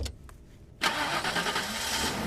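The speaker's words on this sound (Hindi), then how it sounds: "गाड़ी स्टार्ट कर।" A car engine starts abruptly after a short quiet pause and runs on at a steady idle, close and moderately loud.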